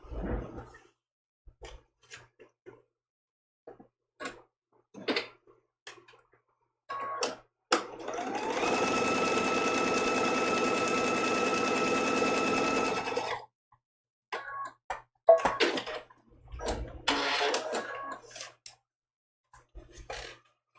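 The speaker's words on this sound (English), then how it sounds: "I think it takes longer for the thread cutter to cut that thread than it does to sew this little tiny seam" A sewing machine runs in one steady burst of several seconds, stitching a tiny foundation-paper-pieced quilt block seam, framed by short clicks and handling noises before and after.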